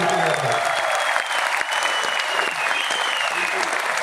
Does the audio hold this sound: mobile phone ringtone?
no